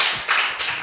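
A church congregation at Sunday worship clapping loudly together, a dense wash of applause swelling in two quick surges over under a second.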